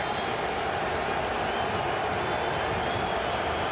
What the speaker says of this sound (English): This is where the crowd will try and make an impact.